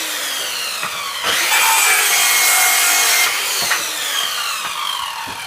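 An Evolution Fury 3 circular saw, fresh from cutting steel, rips through a 30 by 120 mm wooden decking board, its loud high whine deepening into a rough, gritty cut before spinning back down, close up and alone.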